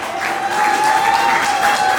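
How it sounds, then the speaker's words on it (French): A wedding crowd claps loudly and steadily, a dense wash of applause that swells slightly and holds for the whole moment. "Est-ce que vous pouvez avoir les applaudissements très fort?"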